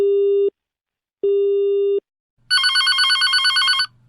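Telephone call tones: two long steady beeps separated by silence, then a rapid warbling electronic ring signal for over a second before cutting off.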